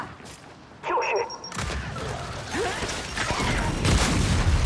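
A frag grenade detonates in Gears 5 after a quieter opening, a sharp loud boom that gives way to steady rattling firefight noise while characters call out over it.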